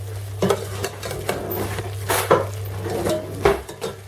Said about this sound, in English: Stir them up a wee tad.